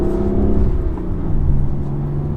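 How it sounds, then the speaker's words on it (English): A BMW M4 with its stock exhaust in sport mode gives a steady, loud engine drone with a strong low hum, slightly swelling midway, heard on its own without speech. "This is a stock exhaust system. In the sport setting, it'll do the blip for me"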